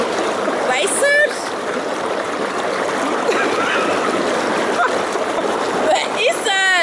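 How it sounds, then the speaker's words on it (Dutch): Water pouring and splashing onto potted plants, a steady broadband wash running throughout, with voices chattering over it. "Lekker de plantjes water geven."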